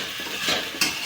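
A spatula stirs and mashes potato pieces in a hot pan of sabudana khichdi, a continuous close sizzle with quick scraping strokes and a sharper metallic scrape near the end.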